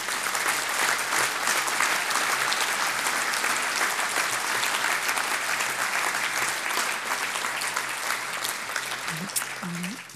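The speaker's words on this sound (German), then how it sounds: "das ist nochmal einen ganz, ganz großen Applaus wert" Sustained applause fills a club members' meeting of Werder Bremen, a loud, dense wash of clapping from a large hall audience that holds steady throughout, with a brief voice surfacing near the end.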